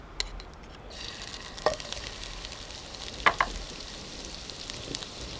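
Garlic frying in oil for a curry sauce: a steady soft sizzle with a few sharp crackles and pops scattered through it.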